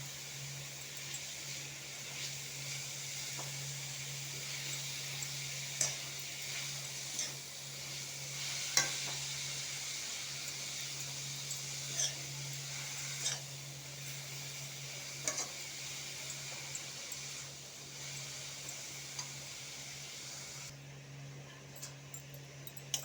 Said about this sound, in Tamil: கேரட், பீட்ரூட், ஆப்பிள் எல்லாத்தையும் போட்டு வதக்கலாம்.